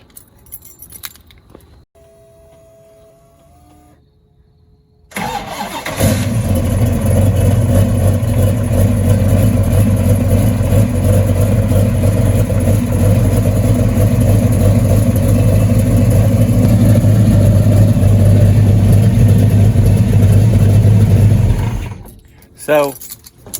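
Keys jingle, then a 1969 Chevrolet Camaro restomod's engine cranks and fires into a loud, steady rumbling idle that runs for about fifteen seconds before shutting off.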